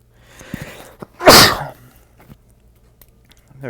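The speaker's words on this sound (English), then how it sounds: "feel like I'm gonna sneeze, but I don't want to sneeze." One sharp, loud sneeze bursts out close by in a quiet room late at night, with faint rustling before and after.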